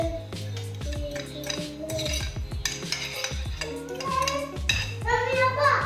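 Pasta being stirred into an oregano tomato sauce in a pan, with close, irregular clinks and scrapes of a utensil against the pan and a faint voice in the background.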